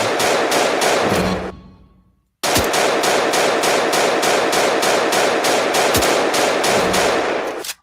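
AK rifle fire in a video game: rapid, loud, evenly spaced automatic bursts. One long burst stops and trails off, and after a short silence another sustained burst follows, with no voices over it.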